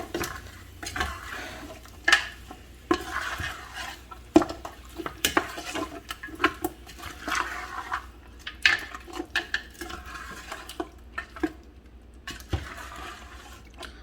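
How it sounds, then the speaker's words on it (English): Meat is stirred through green seasoning paste, making a close, irregular run of wet squelches, scrapes and clinks of a utensil against the bowl over about fourteen seconds, with no voices. "You're going to stir your meat around."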